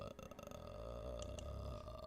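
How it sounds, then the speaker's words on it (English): A single quiet, drawn-out burp rumbles low and steady, faint and close, lasting about two seconds with no talking. "Burp."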